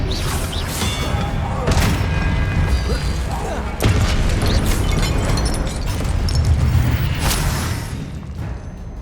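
Confringo blasting-spell explosions in the Hogwarts Legacy video game, repeated heavy booms and bursts over dense rumbling battle noise, loud and close throughout.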